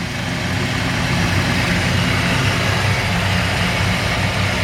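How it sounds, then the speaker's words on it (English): Loud, steady rumble of a 1957 Chevrolet 3100 pickup engine idling close by with the hood open, a constant low throbbing drone with no pauses. "This engine just sounds amazing."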